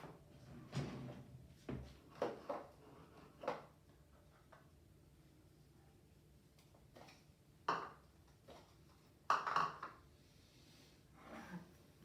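A drawer is opened and a spoon taken out, giving several soft knocks and rattles spread across the stretch, faint and close, with quiet breathing between them.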